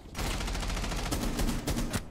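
Rapid gunfire from the video game Rainbow Six Siege: a loud, dense string of shots cracking in quick bursts for a couple of seconds, with no one talking.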